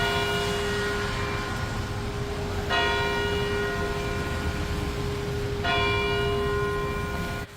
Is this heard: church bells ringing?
yes